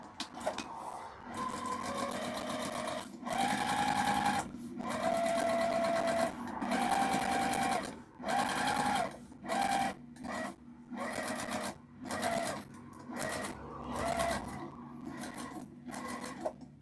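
Sewing machine stitching a tote bag in repeated bursts of whirring, each lasting a second or two, with short pauses between, close and fairly quiet.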